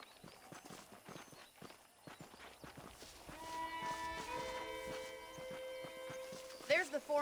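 Horse hooves clip-clop in a steady walking rhythm in Red Dead Redemption, the clear close knocks running under a man's speech and in-game music, with a brief snort or jingle near the end.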